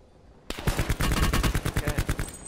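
Rapid automatic gunfire in a video game starts abruptly and rattles on in a loud, close, steady burst of repeated shots.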